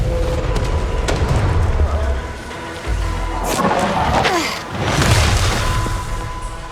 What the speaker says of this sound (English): Haruna lines up two enemies and defeats them simultaneously with an empowered arm blast